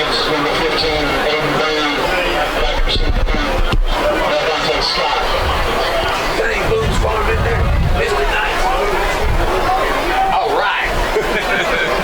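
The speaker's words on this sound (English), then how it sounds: "Huge crowd on hand here at Coach Ross Stadium" A large crowd fills a high school football stadium, Coach Ross Stadium, at a Thomasville vs West Davidson game, a steady loud murmur of chatter and scattered shouts, with an announcer speaking over it.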